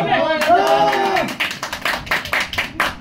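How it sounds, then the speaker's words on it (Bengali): Sharp hand claps at a small birthday gathering, a few people clapping in a loose, uneven rhythm after a short burst of talking, close and fairly loud. "তালি হবে, তালি হবে হাতে। এই তালি দে"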